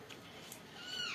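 A cat gives a single short meow near the end, fairly close but quiet, against a soft, hushed indoor background.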